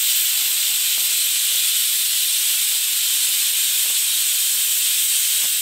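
A pressure cooker cooking country chicken sambar vents steam in a continuous loud hiss that stays constant throughout, with faint clicks underneath.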